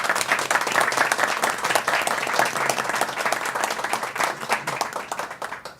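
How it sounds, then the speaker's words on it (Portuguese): A crowd applauds the mayor of São Paulo, Bruno Covas, with dense, sustained clapping at an even loudness throughout, no voices standing out, easing slightly near the end. "uma salva de palmas para o prefeito Bruno Covas"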